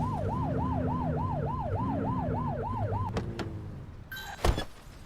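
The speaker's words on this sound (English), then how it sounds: "Get behind them and flip the siren and make them pull over." A wailing police car siren in a video game, cycling up and down steadily for about three seconds over a low engine rumble, then cutting off, followed by a brief loud burst near the end.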